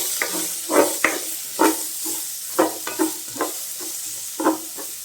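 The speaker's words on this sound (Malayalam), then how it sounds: "ഇതിലേക്ക് സവാള ചേർക്കാം. നന്നായി വഴറ്റിയെടുക്കാം." Sliced onions sautéing in hot oil in a pan with dried red chillies for a Kerala-style bitter gourd stir-fry, with a steady close sizzle and repeated scraping strokes of a spatula roughly every half second.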